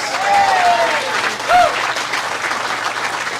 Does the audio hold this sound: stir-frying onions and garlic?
no